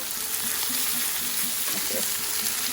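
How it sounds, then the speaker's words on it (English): Chicken pieces fry in a pan, browning a few at a time with a steady, close sizzle and occasional crackle throughout, no voices. "I really want it to get some color, fry up nicely."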